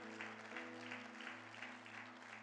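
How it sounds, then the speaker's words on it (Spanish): A church congregation applauds during a service, a faint, even wash of clapping heard from a distance, with a steady low electrical hum underneath. "¿Cuánto le dan más fuerte ese aplauso al Señor,"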